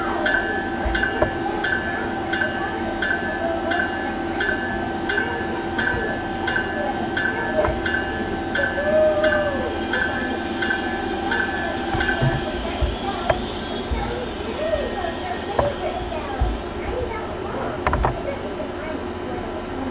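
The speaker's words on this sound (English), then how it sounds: "Oh yeah, the Aces train's coming, what do you know?" An Acela express train arrives on the Northeast Corridor in Train Simulator 2016, a steady loud rumble of rolling stock with sustained wheel and brake squeal tones, a continuous approach lasting throughout with no pauses.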